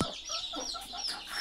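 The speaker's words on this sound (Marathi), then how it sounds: "अजून एक कोंबडी दाखवतो मी तुम्हाला." Free-range desi (gavran) hens in a poultry yard, with a series of soft clucks and chicken calls, fairly close, running through the whole moment with no talking.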